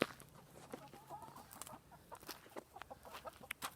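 Chickens cluck and murmur softly around their coop, a scattered stream of short, quiet calls and clucks with no talking over them.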